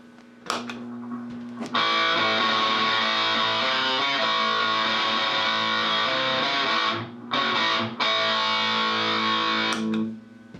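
An electric guitar plays through a distortion pedal, with long, loud, buzzing sustained chords and a couple of brief breaks between them.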